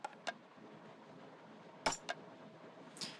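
A quiet Foley percussion loop in a melodic bass remix plays dry with no echo: a few sparse, sharp clicky and jangly hits with gaps of near-silence between them.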